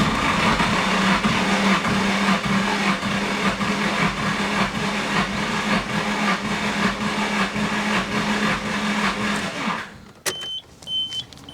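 A Nissan SR20DET engine cranks on the starter during a compression test on cylinder one, a loud, even, rhythmic churning for about ten seconds that cuts off, followed by a few faint clicks and a brief electronic chime.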